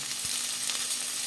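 Chopped onion, garlic and ginger sizzle steadily in hot oil in a pan, a dense continuous frying hiss with a brief soft stirring scrape, close and fairly quiet, with no voices.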